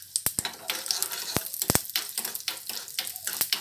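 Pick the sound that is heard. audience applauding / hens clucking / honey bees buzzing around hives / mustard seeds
mustard seeds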